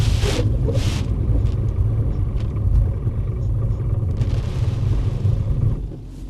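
A Mercedes CLS coupe brakes to a stop, its low rumble and road noise loud and steady inside the cabin before fading out near the end, with brief hissy bursts at the start.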